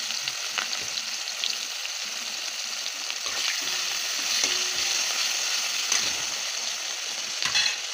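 Onions tipped into hot oil in a pan already holding cumin, dried red chillies and spring onion greens, the start of a country chicken curry. They sizzle steadily and close, with occasional crackles and stirring scrapes, and no one speaks.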